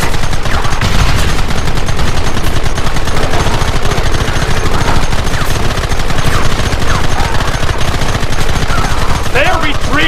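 Rapid, continuous gunfire from a Red Dead Redemption shootout rattles without pause, dense volleys of shots layered over one another, loud and close throughout, with a voice briefly shouting amid the barrage.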